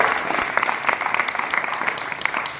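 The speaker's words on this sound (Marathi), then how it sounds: "जोरदार टाळी वाजवा" An audience at a devotional bhajan gathering in Pandharpur claps loudly and continuously, with dense, steady applause throughout.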